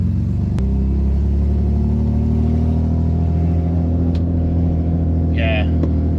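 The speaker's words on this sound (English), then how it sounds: "Power steering's making noise." A car engine idles with a steady low rumble close by while a faint whine from the power steering sits over it, and voices talk over the running engine.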